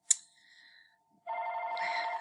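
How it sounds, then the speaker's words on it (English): A mobile phone rings with a sharp electronic click and short tone, then after a brief gap a bright, buzzing melodic ringtone plays steadily and fairly close, with no voices over it. "there goes my phone ringing"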